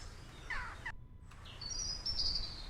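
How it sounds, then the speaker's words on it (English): Odd, synthetic bird calls from an indie video game, short warbling chirps followed by higher whistling tweets over a faint background hum, with a brief dropout of sound between them. "I like the weird bird noises."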